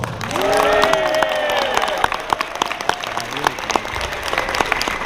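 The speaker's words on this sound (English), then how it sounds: "Everyone, big round of applause for Megaplex's chairman, Hino" An audience at the Megaplex 2019 opening ceremony applauds the convention's chairman, a loud burst of cheering and clapping that swells and then settles into scattered sharp claps with a few voices over it.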